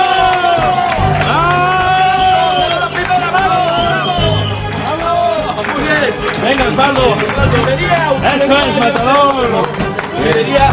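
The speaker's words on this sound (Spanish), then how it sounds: "Señores, un aplauso." A large crowd cheers and shouts bravo in a loud, continuous roar of raised voices, with layered tonal shouting swelling and overlapping across the whole stretch and only faint scattered clapping underneath.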